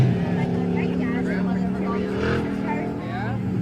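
A dirt track race car, the number 48, roars around the track at Valley Raceway in a steady, loud engine drone with a commentator talking over it.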